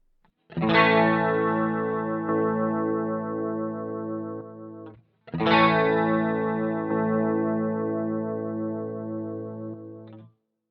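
Two strummed guitar chords ring out one after the other, each sustained for several seconds through a Boss GT-1 processor with its stereo compressor engaged, the second chord starting with a slightly fuller attack.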